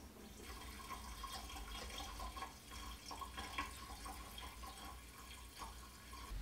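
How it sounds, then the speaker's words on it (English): Antifreeze poured from a measuring cup into the fill hole of a CO2 laser chiller makes a faint, steady trickling and gurgle, continuous and close, with small splashy bumps throughout. "put this into the fill hole right here until I have this all the way filled up"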